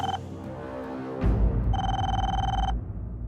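An indoor telephone rings in two bursts of trilling bell tones, close and clear over a low background hum, with no one speaking.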